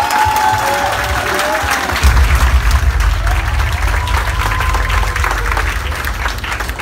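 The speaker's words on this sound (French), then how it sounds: "on peut les applaudir très très fort encore une fois" A crowd applauds steadily at a jury deliberation and winner announcement for a 2018 competition held at the Hôtel Karibea in Guadeloupe, loud dense clapping lasting throughout, swelling slightly after two seconds, with a few cheers and voices mixed in.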